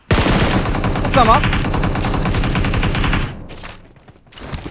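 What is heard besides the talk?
gunfire in video game PUBG Mobile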